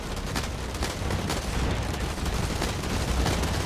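Combat rifle gunfire in the video game Blacklight Retribution, heard as rapid dense bursts of shots in a continuous loud barrage, with no talking.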